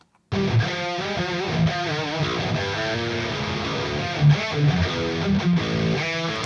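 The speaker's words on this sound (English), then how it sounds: "this is what that amp sim sounds like with these two caps on it" Distorted electric guitar through an amp simulator with cabinet impulse responses plays a riff of chords and single notes, crunchy and continuous, with no talking.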